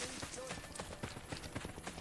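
Horse hooves clip-clopping in a video game, quick rhythmic steps at moderate distance with someone talking over them.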